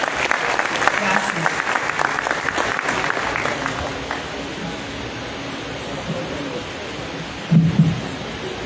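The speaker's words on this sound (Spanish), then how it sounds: "un fuerte aplauso por favor" An audience at a panel discussion on Ibagué's drinking water system claps warmly for several seconds, the applause gradually fading to a low murmur before a voice speaks a short word near the end.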